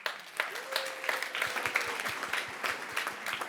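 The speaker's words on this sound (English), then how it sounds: "so please give him a warm applause" An audience claps to welcome banker Henk Hofstede onstage at a festival event, a moderate, uneven patter of hands with a few sharper claps standing out, lasting a few seconds.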